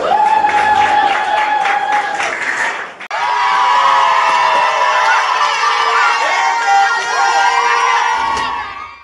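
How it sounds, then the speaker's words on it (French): A crowd at a Congolese event applauds and cheers for Clara, with whoops and children shouting over clapping, loud and close, while music with sustained tones plays alongside. "On applaudit Clara."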